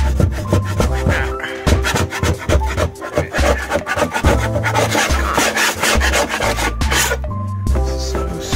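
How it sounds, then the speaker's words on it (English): Rough old paint being scraped off an RV with a hand scraper, loud close rasping strokes repeating in a steady, uneven rhythm with no talking. "So basically you just take the scraper like that."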